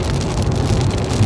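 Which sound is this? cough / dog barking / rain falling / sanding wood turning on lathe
rain falling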